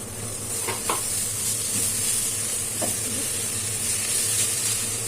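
A chicken liver and gizzard mixture fries in a hot pan, with a steady close sizzle and hiss plus a few soft stirring scrapes, no talk over it.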